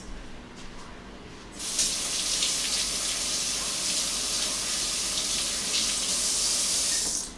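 A kitchen tap runs steadily while potatoes are washed, a loud, continuous hiss of water into a sink that starts abruptly after a short quiet moment and carries on unbroken.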